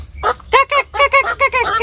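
A chicken being chased and grabbed for slaughter in a village gives a run of loud, close, harsh squawks, about eight rapid bursts in under two seconds with no talk.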